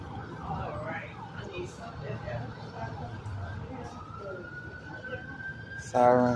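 Emergency vehicle sirens, from a fire truck and an ambulance on a street, wail faintly in the distance under constant talking and traffic rumble, one rising tone stretching out near the end.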